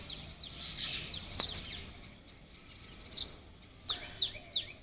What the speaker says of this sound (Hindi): इन चिड़ियाओं का संगीत सुनिए,